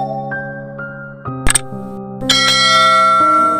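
Bright bell-like chime notes strike over a sustained tonal background, with a metallic click near the middle followed by a shimmering, louder ring that holds to the end, like a notification bell sound effect.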